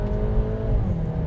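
A 2026 Volkswagen Tiguan with the EA888 engine accelerating at full throttle on a snowy back road, a steady, loud engine drone with a low rumble throughout and no pauses.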